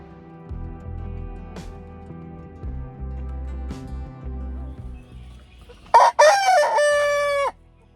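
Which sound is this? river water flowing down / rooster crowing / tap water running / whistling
rooster crowing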